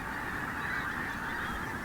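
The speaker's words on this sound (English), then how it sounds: "And the geese, that's the focus gone." Geese honk continuously from a field on a golf course, a dense, steady chorus of many birds calling together at moderate distance with no speech.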